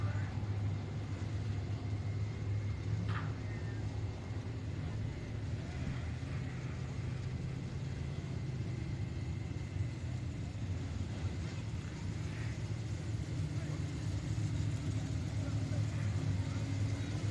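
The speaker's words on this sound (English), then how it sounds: "rolling down the backstretch, the current point leader for the American Championship Series Limited Modifieds, the B99 of Ben Leedy" A Limited Modified race car rolls down the backstretch at Sabine Speedway, a steady distant engine drone with crowd ambience underneath and no pronounced passes.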